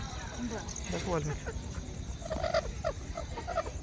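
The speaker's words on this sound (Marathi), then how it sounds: "हे विकायची कोंबडी आहे" Free-range village chickens cluck and gobble in short bursts close by, with people talking over the birds in the background.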